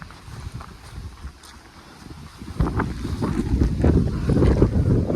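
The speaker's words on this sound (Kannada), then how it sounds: "ತುಂಬ ಗಾಳಿ ಅಂತೂ ಇದೆ, ತುಂಬ ಗಾಳಿ ಇದೆ." Strong wind buffets the microphone on a mountain peak at Ambaragudda, a rushing roar that starts moderate and swells louder in the second half, with no voices.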